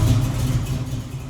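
A 1967 Camaro engine runs rough and lumpy, a loud, close, uneven low rumble with no voices over it.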